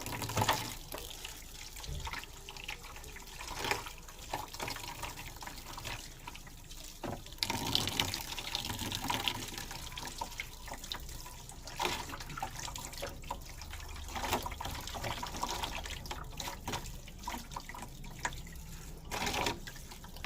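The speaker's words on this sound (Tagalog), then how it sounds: "Puro tubig lang guys, hindi na kailangan ng lagyan ng kung mga detergent para hindi madaling masira yung filter." Water runs steadily from a tap over the foam filter of a Carrier Optima air conditioner as it is rinsed by hand, with a continuous splashing wash and small surges as the filter is moved under the stream.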